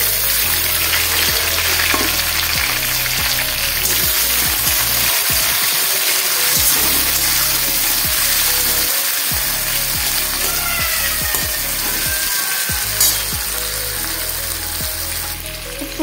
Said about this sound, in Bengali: এবার দিয়ে দিচ্ছি পেঁয়াজ আর টমেটো।